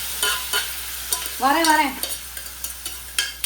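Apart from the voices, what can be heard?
sautéing mutton intestines with masala in a pan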